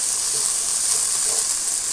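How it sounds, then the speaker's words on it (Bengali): Mustard seeds, green chilli, onion and garlic frying in a pan, a close, bright continuous sizzle with no voices. "সরষে ও কাঁচামরিচ, পেঁয়াজ, রসুন ভেজে নিব ভালো করে"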